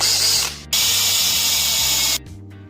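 A drill with a spade bit bores a countersink into wood for a wall-mounted tire rack, two sustained whirring bursts with a short pause between them, loud and close.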